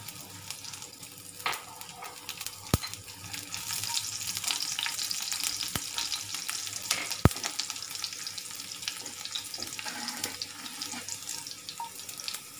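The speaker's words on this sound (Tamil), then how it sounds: "கடுகு பொரிஞ்சதும் பூண்டு சேர்த்துக்கலாம். பூண்டு நல்லா ஃப்ரை ஆகட்டும்." Mustard seeds and garlic frying in hot oil in a pan for a beans usili side dish: a soft, steady sizzle with scattered sharp pops and crackles, close and fairly quiet, with no talking.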